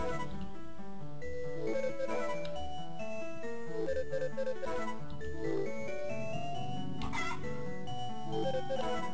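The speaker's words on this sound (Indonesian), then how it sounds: "Ada suara ayam kalau pilihannya benar kayaknya." Chicken clucking in the Harvest Moon Friends of Mineral Town video game, short cartoonish cluck sounds blended into continuous busy background game music, moderate level, with no speech.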